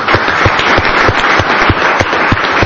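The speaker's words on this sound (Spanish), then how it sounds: "eso merece otro aplauso" Dense, loud applause from a large crowd at a political speech in Havana, steady clapping with rhythmic pulses running for about three seconds before cutting off abruptly.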